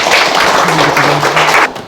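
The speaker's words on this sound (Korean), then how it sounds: "박수로 맞이해 주시면" Audience at a hospital health lecture claps loudly and continuously to welcome a speaker, with a voice faintly audible beneath the applause.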